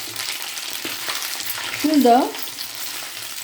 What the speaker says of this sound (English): We'll slowly add on this ivy gourd. We'll have to fry here.